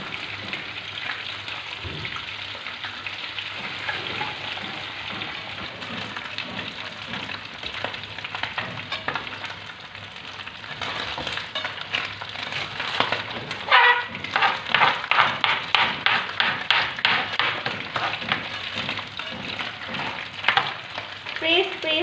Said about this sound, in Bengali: আর কিছু আলু বেগুন কিছু একটা মিশিয়ে ফ্রাই করি